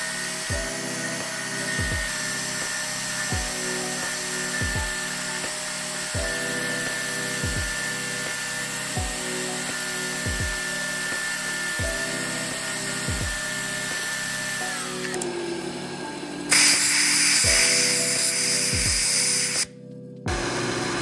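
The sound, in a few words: drilling 0.4 mm holes in a watch tourbillon cage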